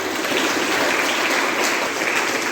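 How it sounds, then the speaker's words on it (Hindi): Strong, steady applause fills a school auditorium during a Hindi Divas celebration, many hands clapping loudly and continuously through the short stretch without any audible voices. "प्रस्तुति पसंद आई हो तो जमकर तालियां बजाइए।"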